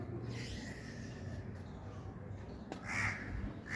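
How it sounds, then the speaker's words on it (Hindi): A lone crow caws from a perch outdoors, a few harsh calls spread across the moment, moderately near, over steady background noise with no talking. "कौवा अकेला बैठा कहीं कहीं कर रहा है।"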